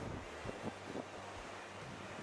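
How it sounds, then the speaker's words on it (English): Wind buffets the microphone on Tenerife's north coast, a steady low rumbling roar with a few soft gusting pulses and no voices. "definitely north coast is more windy"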